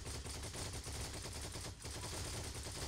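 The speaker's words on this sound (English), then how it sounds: "there's an MG guarding A3 on the road, watch out" Sustained automatic machine gun fire in the World War II shooter game Heroes and Generals, a dense rattling burst of rapid shots running nearly continuously with a brief gap midway.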